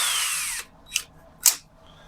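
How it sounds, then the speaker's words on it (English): A power drill whirs loudly for about half a second while boring pilot holes for cabinet door hinges, then falls silent, followed by two short sharp knocks or clicks. "Go ahead and drill these pilot holes just a little bit deeper."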